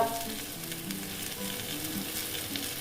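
Chili powder and grated ginger sizzle in a frying pan while cooking kochur loti, a close, steady hiss of oil with faint stirring and no talking.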